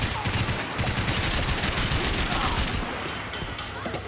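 Dense, continuous gunfire from the video game Max Payne 3, a loud fusillade of overlapping shots and bursts that runs without a break throughout.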